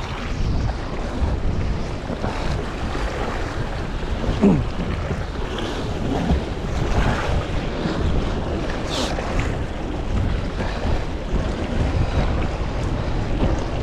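Strong waves churn across a rough fish pond while gusting wind buffets the microphone, a continuous loud roar of water and wind lasting throughout.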